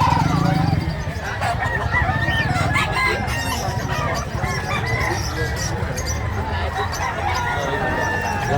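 Labuyo chickens at a busy market cluck and crow repeatedly, roosters calling over a dense crowd of talking voices throughout.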